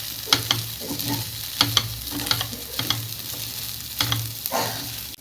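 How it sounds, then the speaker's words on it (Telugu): Sago upma sizzles gently in a pan on low flame while a utensil scrapes and stirs in a repeated rhythm. "ఇది సన్న మంట మీద వేయించుకోవాలండి"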